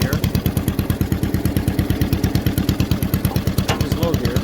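A restored John Deere LA lawn tractor engine runs in high gear, a loud, close, rapid, steady thumping putter with even pulses throughout, and a voice speaks briefly over it.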